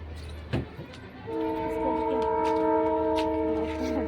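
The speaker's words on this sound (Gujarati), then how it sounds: "ટ્રેનનો ડબ્બો નીકળી રહ્યો" A single train wagon rumbles by at a distance, and a steady, sustained horn-like tone rises and holds over the low rolling noise.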